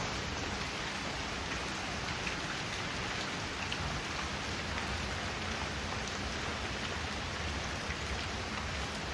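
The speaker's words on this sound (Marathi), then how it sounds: "मस्त पाऊस पडतो बाहेर." Steady rain pours down outside, a dense, even hiss of drops on surfaces that continues without a break and with no voices.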